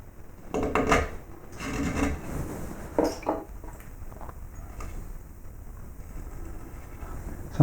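Hand tool carving a wooden baseball cap strap: several short scraping and rasping cuts in wood up close, clustered in bursts with quiet pauses between, no talking.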